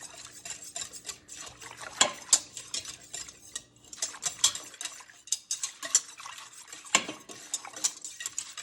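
A whisk works starter into homemade yogurt in a bowl, making quick, uneven metallic clinks and scrapes against the sides, close and clear with no talk.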